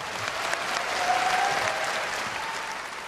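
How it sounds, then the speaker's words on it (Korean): Audience at a Miss Korea pageant final applauding 16 candidates, a dense, even burst of clapping that holds steady for a few seconds, full and moderately close. "잘 넘긴 우리 16명의 후보에게 다시 한번 큰 박수 부탁드리겠습니다"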